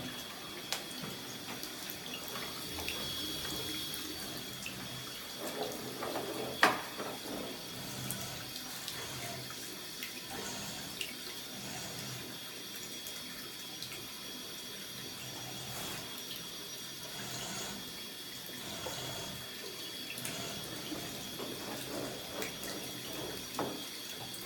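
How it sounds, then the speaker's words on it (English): Water runs from a bidet in a rental-home bathroom under inspection, a steady hissing stream that continues without a break for the whole stretch, with a brief click partway through. "Can you turn the bidet off now?"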